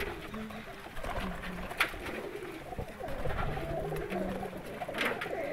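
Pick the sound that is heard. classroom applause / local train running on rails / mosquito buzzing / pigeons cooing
pigeons cooing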